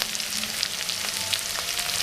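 Chopped onions fry in a pan for a spinach and amaranth leaf dish, giving a steady, close, dense sizzle with scattered crackles and no talking throughout.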